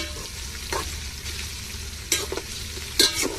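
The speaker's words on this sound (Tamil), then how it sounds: "வெங்காயம் வந்து நல்லா செங்க நிறத்துக்கு வரணும்" Onions frying in a pan, a constant close sizzle with a few scraping stirs of a spoon toward the end, no one talking over it.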